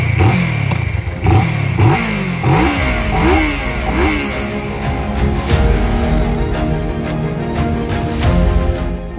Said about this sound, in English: a few seconds later, we can start the engine